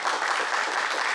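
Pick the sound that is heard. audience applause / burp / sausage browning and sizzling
audience applause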